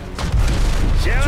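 A grenade goes off in the PC shooter BlackSite: Area 51: a sudden heavy boom bursts in shortly after the start and rolls into a dense, sustained rumble with scattered combat noise.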